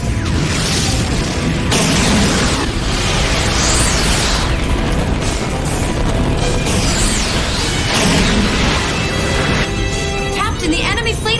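Weapons fire and explosions from an animated space battle between a ship and an enemy fleet, a dense continuous roar of blasts and booms with voices talking over it throughout.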